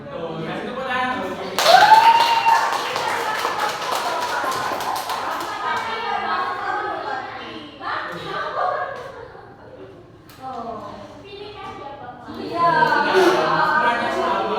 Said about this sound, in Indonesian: Betul, kasih tepuk tangan dulu.